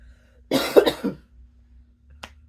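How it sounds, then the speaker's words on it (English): A short burst of harsh coughing, several rapid coughs close to the mic over about three quarters of a second, followed after a pause by one faint single cough, at a music festival. "I had a cough attack just now"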